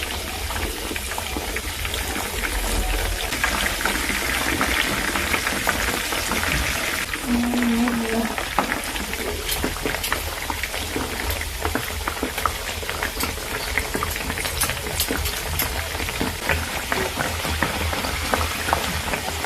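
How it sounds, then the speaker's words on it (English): Cinnamon roll dough frying in hot oil, turned to brown both sides, gives a steady, dense crackling sizzle like light rain that runs unbroken throughout at a moderate, close level. "I'm just going to fry both sides to golden brown."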